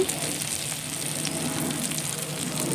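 A pan of ginger-garlic paste with cumin, coriander and chili powder sizzles and fries steadily for jackfruit kalia, a continuous close, even hiss with no pauses.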